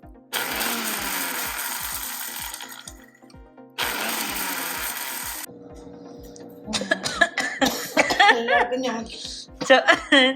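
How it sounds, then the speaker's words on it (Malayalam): A person coughs repeatedly in a home kitchen after two loud bursts of a mixer grinder crushing roasted chillies, with harsh, uneven coughs close by and mixed with talking. "ചുമ വരുന്നു."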